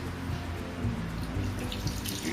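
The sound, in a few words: water poured onto curdled milk for rasagollas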